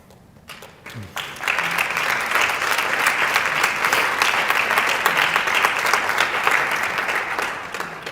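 A crowd breaks into sustained applause after a brief quiet start, dense clapping that swells quickly and holds steady at full strength to the end.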